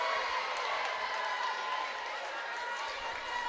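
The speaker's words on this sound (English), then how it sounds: "See, the crowd is now finally getting into it a bit more." A university men's basketball crowd in a varsity game between Salford and Chester keeps up a steady, fairly distant murmur of cheering and shouting, with the sound of the arena running underneath.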